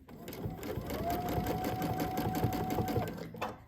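Sewing machine running steadily through free-motion quilting stitches on fabric, a fast continuous rhythmic whir of needle strokes lasting several seconds before it stops.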